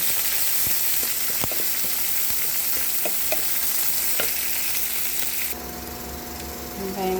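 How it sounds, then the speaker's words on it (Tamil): Onions, curry leaves and dried chillies sautéing in a pan for a green gram curry, a steady loud sizzle with a few sharp pops and spoon scrapes, the hiss dropping abruptly partway through. "வெங்காயம், கருவேப்பிலை, காஞ்ச மிளகாய் போட்டு வதக்கிடலாம்."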